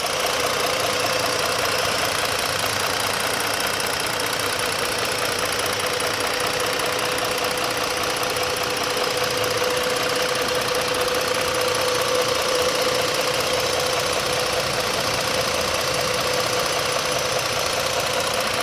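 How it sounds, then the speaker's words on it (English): A 2015 Ford Taurus Police Interceptor engine idles steadily, a constant close mechanical hum with a faint ticking knock running underneath, heard alone without talk for the whole stretch. "Let me shut up so you can hear the engine."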